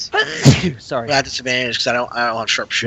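A single sharp sneeze bursts out near the start during a tabletop role-playing game session, and a person keeps talking right after it.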